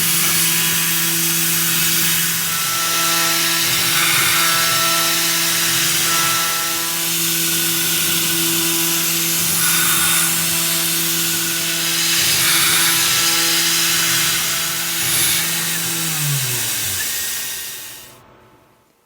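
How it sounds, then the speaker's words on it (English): A 1/4 inch ball end mill contours a steel 1911 mainspring housing, producing a steady high whine with a constant hiss of cutting, then spinning down and stopping near the end. "Now it's time for some 3D contouring with a 1/4 inch ball end mill cutter."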